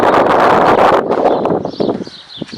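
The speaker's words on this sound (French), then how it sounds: "Ah, il y a du vent quand même." Wind buffets the microphone in a steady, loud rumble that eases after a second, with faint birds chirping in the background.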